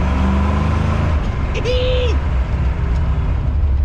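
A car engine fitted with an Edelbrock carburetor runs loud and steady, with a continuous close rumble and no sputtering. A brief tonal sound rises over it midway.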